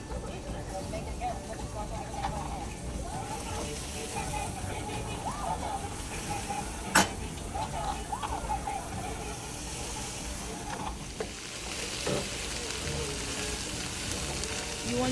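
Bell peppers for lasagna hit a pan, giving a soft, steady hiss and sizzle under ongoing talk, with one sharp click midway.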